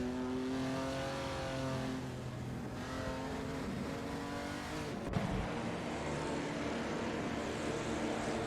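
Alpine race car in a racing video game, its engine droning steadily with harmonic whine and shifting pitch as it revs, joined by tire noise and a brief sharp knock midway, with no voices.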